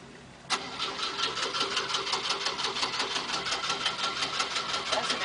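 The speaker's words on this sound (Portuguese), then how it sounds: "Deixa eu fazer pegar o carro primeiro, por favor." An overturned Jeep on a trail being cranked: a click, then a steady rhythmic chugging of the starter turning the engine over without catching, loud and close, with no talk.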